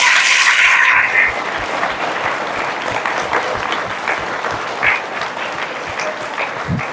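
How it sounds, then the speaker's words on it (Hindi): Children at a church retreat clapping their hands together in applause, a dense steady patter from a group in a room, loud and sustained throughout with no talking over it. "मुझे अच्छा लगा तेरा ताली"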